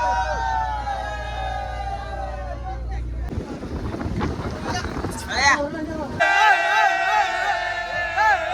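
A Kerala fishing vallam runs a powerful CMC engine at sea, a low, steady rumble beneath heavy wind buffeting on the microphone and splashing water, with voices heard intermittently.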